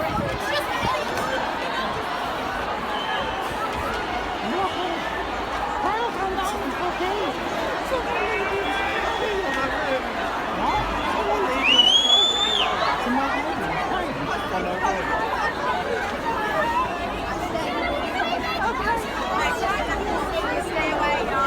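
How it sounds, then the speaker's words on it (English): Crowd leaving a concert at Manchester Arena, a dense, steady hubbub of many voices chattering with footsteps and occasional distant shouts and whistles, continuous over the whole stretch. "the footage does not look much different to any other crowd leaving a concert"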